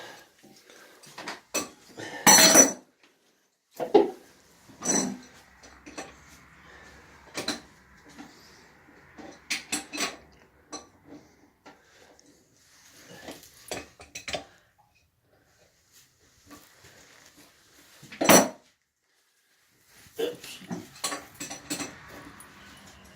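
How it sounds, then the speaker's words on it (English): Toilet installation nuts and bolts are handled in scattered bursts of metallic clinks and rattles, close and sharp, separated by quiet gaps. "If you get this hardware out of the way, so it doesn't end up being in the wrong place."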